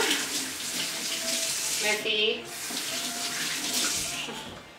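Hands being washed under a running kitchen tap, a steady close hiss of water with splashing changes as the hands move, continuous through the whole stretch.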